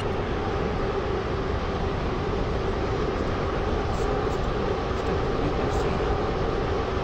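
Steady broadband rumble of a train running in the Stepford County Railway video game, likely a Class 350 or 802, with a continuous even roar throughout and no talk.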